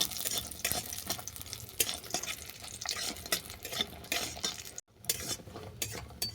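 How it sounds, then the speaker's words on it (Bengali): Lentil dumplings (bori) browning in hot mustard oil in a wok, a close crackling sizzle with frequent stirring scrapes and light utensil clinks, briefly cut by a moment of silence. "বড়িটাকে আমি বাদামি করে ভেজে নেব।"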